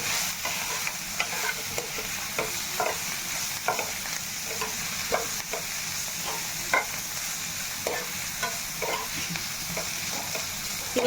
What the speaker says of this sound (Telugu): కొంచెం ఇట్లా పచ్చి స్మెల్ అనేది పోయేటట్టు వే వేపితే సరిపోతుంది